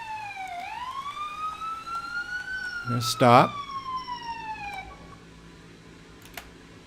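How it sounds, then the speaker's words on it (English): An ambulance siren from the emergency-services video game EmergeNYC wails in a loud rising and falling sweep, with a short burst of a harsher yelp tone partway through, before fading out; a voice speaks briefly over it. "Give you a little siren just to make you feel better."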